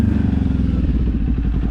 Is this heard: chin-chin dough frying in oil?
no